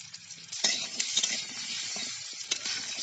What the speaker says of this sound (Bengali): আলুটাকে দিয়ে আমি মিনিট 2-3 এইভাবে নাড়াচাড়া করে একটু ভেজে নেব।